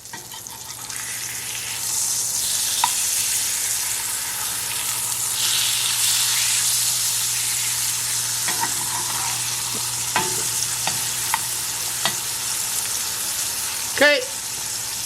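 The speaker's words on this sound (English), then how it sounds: "you can see how that's just sizzling away" Onions sizzle in butter in a frying pan, a steady close frying hiss that runs throughout, with occasional stirring clinks and a brief scrape near the end.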